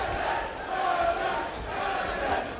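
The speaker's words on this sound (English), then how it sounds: "crowd's starting to get nice and involved in this one" Arena crowd at a professional boxing bout, a steady loud roar of many voices swelling and rising in excitement as the fighters exchange punches, continuous through the whole stretch.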